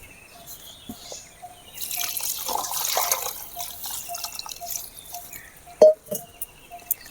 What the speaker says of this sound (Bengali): এর উপরে এবারে ঠান্ডা জল ঢালতে হবে।